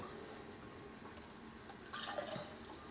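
Water is poured or dripped into a container for a drink, a faint, brief trickle of splashes rising for about a second over a quiet room hiss.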